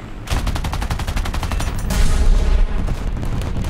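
Rapid machine gun fire from a Fiat CR.32 quater biplane in War Thunder air realistic battle, a fast steady stream of loud bursts over the droning engine, alone without talk.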